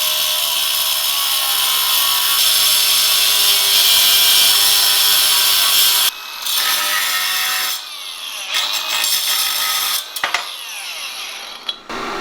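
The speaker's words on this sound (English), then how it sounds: "So we're gonna be grinding that down." A metal spacer ground down during a Serial Nine front upper control arm install on a Lexus IS300, giving a loud, sustained harsh grinding for about six seconds, then shorter, choppier bursts of grinding.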